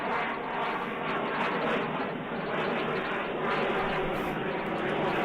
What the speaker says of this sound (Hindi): ये हमारे लड़ाकू विमान हैं जिनका दमखम आज आसमान में देखा जा रहा है।